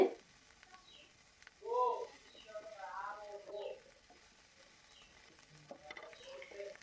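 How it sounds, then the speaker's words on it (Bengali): Ginger-garlic paste frying in oil on a tawa as it is stirred, a soft, quiet scraping and sizzle with a couple of short vocal sounds over it. "আদা রসুন বাটা দিয়ে ভালো করে নেড়েচেড়ে নিতে হবে"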